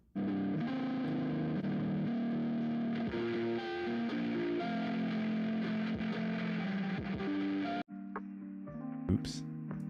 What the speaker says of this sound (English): Because this is a guitar amp, it's always going to sound like this.